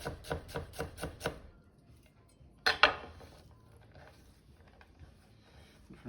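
A knife chops food thinly for chicken tacos, with about six quick, crisp cuts on a board, then a sharper clatter of kitchenware and faint handling noise.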